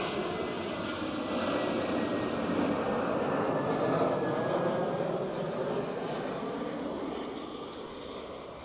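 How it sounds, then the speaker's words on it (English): An EasyJet jet arriving from Geneva at Barcelona El Prat airport gives a steady, broad engine roar that holds at a constant level and eases off slightly near the end, with no talking. "So, EasyJet from Geneva,"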